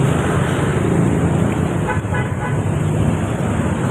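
Dense road traffic rumbles steadily nearby in a congested Philippine street, with a brief car horn toot standing out midway.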